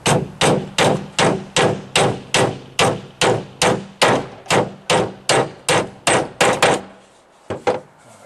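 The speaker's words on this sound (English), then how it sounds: "So we'll put a couple more nails further up here on this joist where they go" A hammer drives nails into a deck roof joist with about sixteen sharp, evenly spaced blows, loud and close, followed by two final scattered taps after a short pause.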